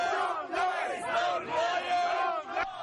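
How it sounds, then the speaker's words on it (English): A crowd of Buddhist protesters in Inglewood, Los Angeles, shouts and chants loudly and continuously as the Dalai Lama's motorcade arrives, with many overlapping raised voices close by. "A calm crowd waiting for the Dalai Lama today in Inglewood turned loud"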